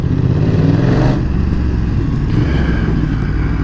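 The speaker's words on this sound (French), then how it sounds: "Moi j'aime bien le bruit de la F900R" A BMW F900R motorcycle engine runs loud and close, with a deep throaty rumble and a couple of revving surges.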